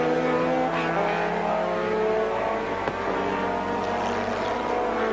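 Turbocharged touring car racing at Silverstone in the 1987 RAC Tourist Trophy, with a sustained loud engine drone that holds steady and near, shifting slightly in pitch as the cars run at speed.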